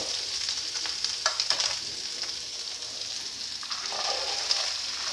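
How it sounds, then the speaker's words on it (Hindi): Chopped onion goes into a pan of garlic-ginger paste already frying in oil, giving a steady broad sizzle with occasional stirring scrapes and louder crackling bursts, close up and without talk. "अब इसमें ऐड करेंगे प्याज।"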